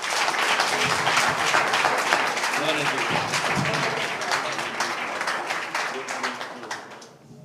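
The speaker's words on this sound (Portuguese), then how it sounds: "Vamos dar mais uma salva de palmas para Jesus?" A church congregation applauds during an evening missions seminar service, dense steady clapping that stays loud for about six seconds, then thins and fades out, with voices calling out over it.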